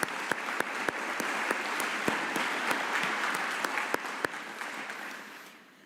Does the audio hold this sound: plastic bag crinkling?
no